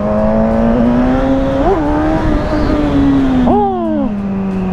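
A Suzuki GSX-S 1000 motorcycle rated at 145 hp revs hard to high rpm, its engine note climbing and dropping in sharp sweeps under a steady loud drone, heard up close with no talking.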